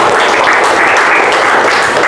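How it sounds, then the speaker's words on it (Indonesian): A classroom audience claps for a student group about to present, a steady, dense wash of applause that holds for about two seconds with no voices over it. "Kasih tepuk tangan dulu untuk kelompok 5."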